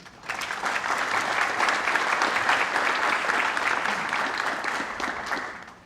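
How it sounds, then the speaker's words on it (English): A conference audience at a monitoring tech event gives the next speaker a round of applause, steady, full clapping from a large room that lasts about five seconds and then fades. "Let's give a big round of applause for our next speaker."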